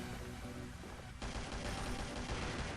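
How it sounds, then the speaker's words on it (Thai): Loud, sustained gunfire from a shooting video game, with dense rapid bursts that swell into a heavier, continuous volley partway through. "เสียงปืนมันดังดีนะ ดังสะใจ"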